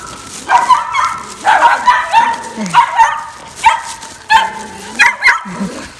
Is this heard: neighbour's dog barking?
yes